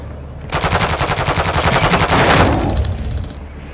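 A loud burst of automatic gunfire from a Call of Duty match rattles in rapid, even shots for about two seconds, then cuts off into a fading ringing tail.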